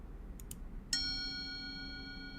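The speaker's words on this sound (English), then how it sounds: "Singing bowl." A singing bowl is struck once and rings out in a long, steady, shimmering tone that slowly fades. A couple of faint light taps come just before the strike, all over a low background hum.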